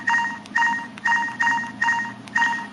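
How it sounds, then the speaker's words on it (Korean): An LG LH2300 touchscreen phone plays six loud, evenly spaced keypad dialing tones as a number is entered, each a short beep about half a second apart. "번호를 누른 다음에 통화 단추를 눌러주게 되면은 전화가 가죠."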